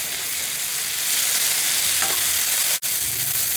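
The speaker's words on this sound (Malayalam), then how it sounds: "ചെറിയുള്ളിയും നമ്മുടെ തക്കാളിയും എല്ലാം നന്നായിട്ട് അങ്ങ് വഴന്നിട്ടുണ്ട് കേട്ടോ." Tomato and shallots sautéing in a pan for a crab dish, a loud, close, continuous sizzle with a soft stirring scrape partway through and a brief dropout near the end, no voices.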